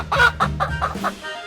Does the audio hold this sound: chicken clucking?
yes